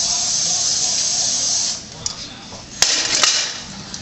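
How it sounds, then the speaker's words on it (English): Cooking spray hissing steadily from a can onto a baking pan for pumpkin spice bars, a long close spray followed by a couple of short clicks and bursts. "Going to get our pan greased and ready."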